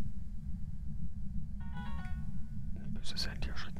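In the horror video game Phasmophobia a phone rings, a short electronic tone pattern that repeats twice over a low rumbling ambient drone, followed by a brief rustle.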